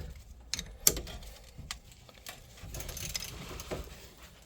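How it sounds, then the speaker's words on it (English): A 14 mm wrench tightens a brake caliper bolt on a 2015 Toyota Verso, giving faint close metallic clicks and ratcheting ticks in a quiet garage. "Now you grab the 14 and you can tighten the caliper all the way."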